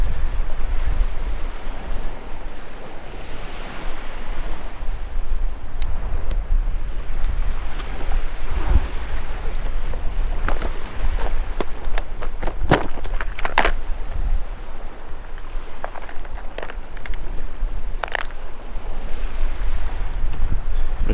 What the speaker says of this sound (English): I was hoping this wind would push them in here